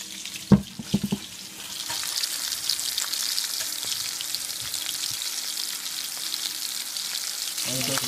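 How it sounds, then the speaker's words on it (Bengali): Hilsa fish pieces frying lightly in hot oil for a mustard hilsa dish, a steady close sizzle running throughout after a few sharp clatters at the start, with no talking. "হালকা ভেজে নিলাম আমরা মাছটিকে।"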